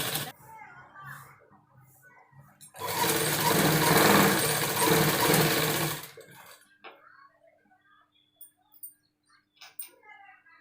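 A sewing machine stitching dress pants runs in one fast, loud burst of about three seconds, with quieter handling noises and small clicks before and after.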